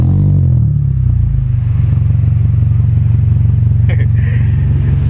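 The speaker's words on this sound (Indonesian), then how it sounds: "Dan ini juga pasang knalpot racing bos. Kita dengerin suara knalpotnya." A Hyundai Sonata's engine turns over and settles into a loud, deep, throaty idle from an open racing exhaust, rumbling steadily close by with a brief rattle near the end.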